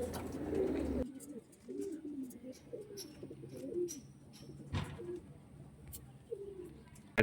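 Pigeons coo close by in a repeating run of soft, low, throaty calls, with faint chirps and light clicks around them and a brief louder burst at the start.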